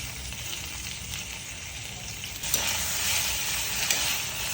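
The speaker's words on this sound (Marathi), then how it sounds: "वांग्याची थोडी तेलात फ्राय करून घ्यायचं." Eggplant frying in oil makes a continuous close sizzle that swells louder partway through, with light stirring and no voices.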